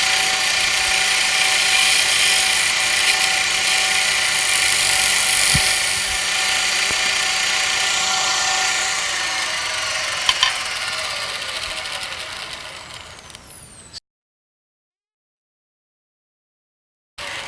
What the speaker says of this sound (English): On the concave part, I'm using the arc scraper.